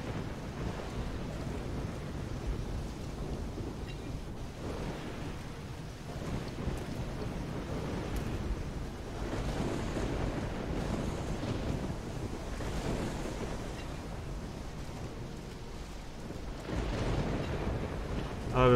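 Ocean surf rolling onto a beach in the Risen video game, a steady broadband wash of waves with wind that stays loud and continuous throughout.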